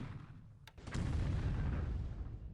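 The 4-inch deck gun of the submarine S-41 fires in a War in the Pacific game: a sharp report, then a heavy, rumbling boom that rolls on and fades slowly, heard alone.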